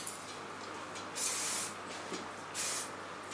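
Hairspray can spraying onto hair in two short hissing bursts, each about half a second long, close and clear over quiet room tone.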